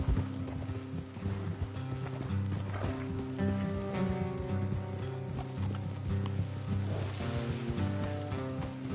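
Horses' hooves clip-clop steadily along a trail in Red Dead Redemption 2, a rhythmic clatter of several animals moving together over a bed of ambient game sound and musical tones.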